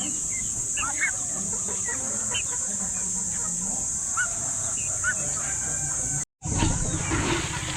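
Black chickens on a farm cluck and chatter close by in a busy, overlapping flock, with a steady high whine behind them and a brief dropout near the end.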